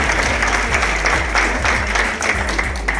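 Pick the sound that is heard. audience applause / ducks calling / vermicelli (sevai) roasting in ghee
audience applause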